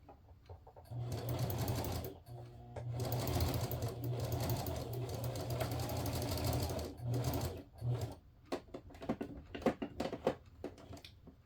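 A sewing machine stitches a rag quilt in steady fast bursts, running continuously for several seconds, pausing briefly, then resuming before stopping into short irregular clicks and handling sounds.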